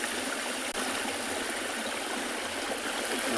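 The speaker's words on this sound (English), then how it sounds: "Good just to sit and let you listen to the sounds of the water." Water flows steadily in a stream at a South African safari reserve at sunrise, a continuous broadband rush and babble, close and fairly loud, with no voices.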